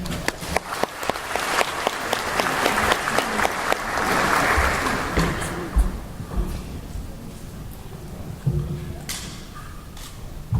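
A large audience applauds warmly at a Central Queensland University graduation ceremony as a guest speaker is welcomed, sustained clapping that swells in the middle and then thins to scattered claps near the end.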